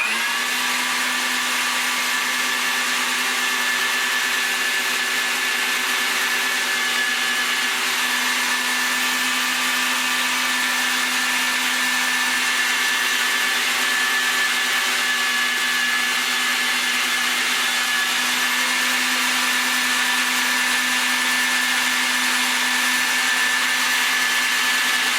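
Electric sausage stuffer pushing homemade sausage mix into casings, a loud, steady motor hum that drones on unbroken and unchanging, close by with no talking.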